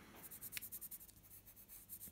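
A blue watercolor pencil colors across paper for a scrapbooking project, producing faint, close scratchy strokes in a quick steady back-and-forth rhythm.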